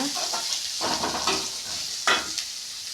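Crushed, peeled ginger sautéed in a pan for rava kichadi: continuous close oily sizzling with a few bursts of stirring and scraping, no talk.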